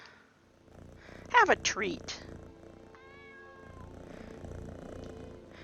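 Cats in Skyrim VR meow in a few short, rising and falling cries, with soft purring beneath, while someone talks nearby over quiet ambient game sound.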